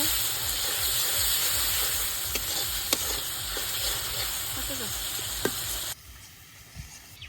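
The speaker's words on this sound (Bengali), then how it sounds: "মশলাটা খুব ভালোভাবে কষে নিছি" Turmeric, chili, coriander and cumin spice paste frying in oil for a fish curry, a loud steady sizzle and hiss with occasional small pops, dropping to a quieter sizzle near the end.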